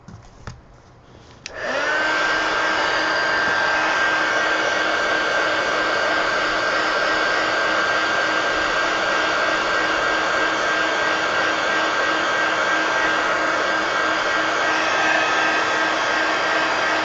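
A handheld drying tool switches on and blows air steadily over a mixed media art page, a loud continuous whirring roar with a steady whine that runs unbroken after a brief quiet start.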